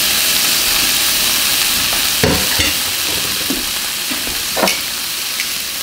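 Bacon sizzles in a hot pan with no butter or oil, a steady close hiss and crackle broken by a few sharper pops and stirring scrapes.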